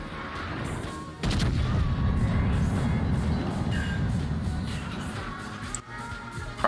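A cruiser's secondary guns fire in a naval video game, with a dense run of heavy booming shots that starts abruptly and continues for several seconds at steady loudness.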